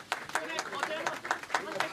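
Clapping and applause at the Liberal Democratic Party headquarters after Japan's upper house election, sharp hand claps repeating in quick uneven bursts while voices talk over the crowd noise.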